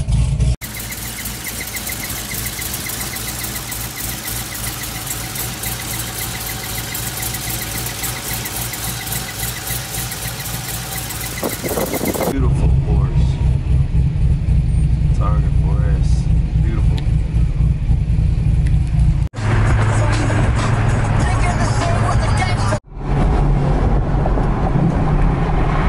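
A Corvette's LS3 V8 with a failed lifter runs with loud, steady mechanical clatter and roar, which shifts partway through to a deeper, heavier drone that holds to the end.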